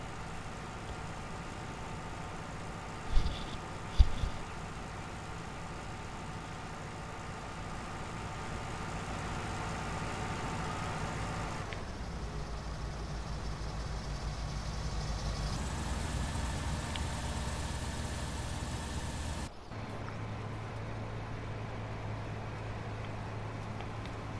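A tractor towing a trailer in the farming game Farming Simulator 19 drones with a steady, even engine hum that shifts tone a few times, with two brief clicks early on and no talking.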